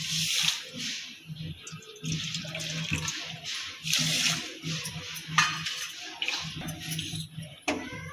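Water poured into a pan of sugar to make syrup for gulab jamun, a steady close splashing and trickling pour with small clinks, no talk.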